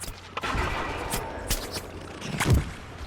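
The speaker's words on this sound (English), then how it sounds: "Somebody's shooting at my face." Bursts of gunfire from the shooter game Plants vs Zombies Garden Warfare crackle in quick irregular volleys, with a heavier thump near the end, set against steady in-game background noise.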